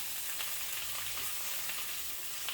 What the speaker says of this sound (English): I'm gonna fry this with a bit of spring onions